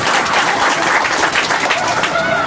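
An audience at a summer food service kickoff event gives a dense, steady round of applause, loud and continuous throughout.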